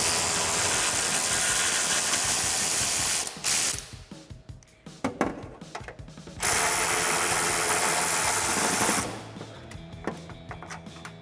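A ratchet with a 13mm socket and short extension loosens exhaust hanger bolts on a 2018-2021 Mustang GT, clicking rapidly in bursts between loud, steady air-tool-like hissing noise in the shop.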